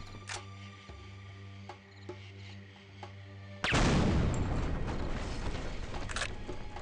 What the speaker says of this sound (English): That is a loud explosion.